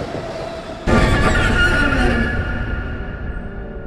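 In the game When The Darkness Comes, a train's loud clattering roar bursts in abruptly and then rolls on steadily with a metallic squealing edge, with no one talking.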